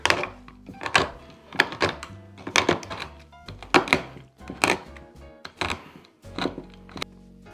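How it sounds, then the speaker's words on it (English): Chocolate being chopped into pieces with a kitchen knife on a board: a quick series of sharp, close thunks in irregular bursts, loud and clear with no talking. "we have the knife, and we're gonna make chocolate pieces."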